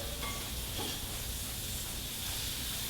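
Garlic and butter sizzling in a hot pan at about 350 degrees, a steady close hiss with a low rumble underneath and no voices.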